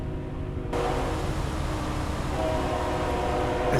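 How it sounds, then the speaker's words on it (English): A long coal train rumbles past in American Truck Simulator, a steady, loud, broadband roar that swells after the first moment and holds throughout with a faint tonal hum over it. "Is this a really long coal train?"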